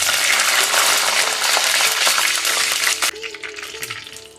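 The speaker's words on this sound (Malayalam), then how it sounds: "കടുക് പൊട്ടിക്കഴിയുമ്പോൾ നമുക്കിച്ചിരി വേപ്പിലിട്ട്" Mustard seeds and curry leaves sizzle loudly in hot oil for a Kerala prawn and bilimbi thoran, with a steady dense hiss that drops sharply partway through to a quieter crackle.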